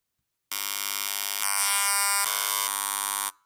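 Cordless telephone radio emissions converted into audible sound: a steady, loud electronic buzz with a dense harmonic whine that starts abruptly, shifts tone partway through, and cuts off after about three seconds, with no talk.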